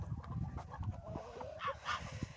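Geese in a home yard with poultry, sounding faint and somewhat distant, with a few short honking cackles near the end over low background noise.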